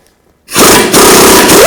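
Power tool spinning a 24mm socket to remove a front lower control arm nut on a 2007-16 GMC Acadia, starting abruptly after silence and running loud and steady with a rising whine at the end.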